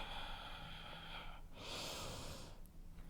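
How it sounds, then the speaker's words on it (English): Ujjayi-style yoga breathing through the nose during an Ashtanga class, close and quiet, one long airy exhale followed by a softer inhale. "Breathing with sound in through the nose and out through the nose."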